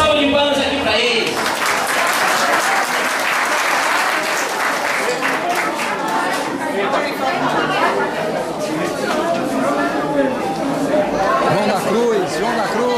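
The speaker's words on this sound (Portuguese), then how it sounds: "João da Cruz, uma salva de palmas aqui para ele." Loud, sustained applause from a crowd welcoming a person being introduced at a public presentation, with dense clapping, cheering and lively chatter continuing throughout.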